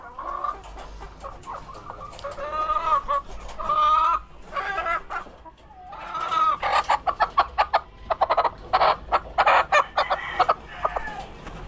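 Hens clucking inside a cramped backyard chicken coop, a loud continuous stream of cackles and clucks close by with no talk.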